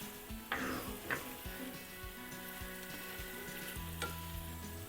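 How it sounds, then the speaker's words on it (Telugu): Taro root pieces drop into a pan of frying tomato curry, bringing a steady low sizzle, a few soft thuds and the scrape of stirring. The sound is quiet and close, with no talk. "ఇలా చామగడ్డలు వేసుకోవాలి."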